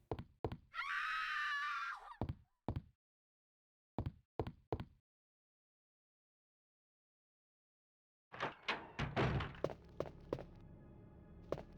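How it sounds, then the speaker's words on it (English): Stock scream effect from Resident Evil 2 (1998): a single loud, sustained shriek lasting about a second, set among sparse thuds and footstep-like knocks, with busier clattering later. "My second favorite scream."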